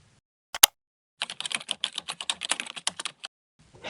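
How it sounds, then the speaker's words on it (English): Quick typing on a computer keyboard, a burst of about twenty crisp key clicks in a steady run after an isolated sharp tap, close and clear in a quiet room. "start a new chat and type Enable Spicy Mode"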